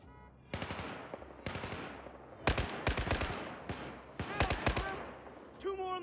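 Video game gunfire in Battlefield 4 comes as several bursts of automatic rifle fire, close and sharp, separated by short pauses, with faint combat voices in the background.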